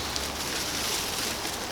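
Steady rain falling outdoors in the UK at a campsite, a continuous broadband hiss of drops on surfaces, even and unbroken throughout with no talk.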